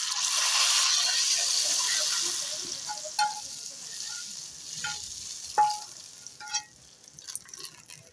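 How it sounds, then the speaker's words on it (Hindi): Hot tadka tempering poured into a pot of mixed masoor and moong dal gives a loud, hissing sizzle that slowly fades, followed by a few sharp metallic clinks of a spoon or pot. "तो अब हम दाल के अंदर तड़का लगाएंगे"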